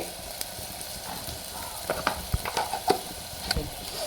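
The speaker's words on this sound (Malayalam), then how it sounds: "മീൻ മസാല പൊടികളൊക്കെ നമുക്ക് നന്നായിട്ടൊന്ന് മൂപ്പിച്ചെടുക്കാം" Fish masala and chili powder fry in a pan with a soft steady sizzle, punctuated by a few scraping stirs near the end.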